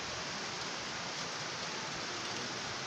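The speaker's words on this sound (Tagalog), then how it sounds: "Umulan na dito" Rain falls steadily, an even and continuous hiss, soft and fairly distant, with no voices.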